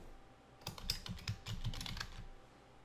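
Typing on a computer keyboard while entering text in Articulate Storyline 3, a quick, close run of soft clicking keystrokes lasting about two seconds with no talking.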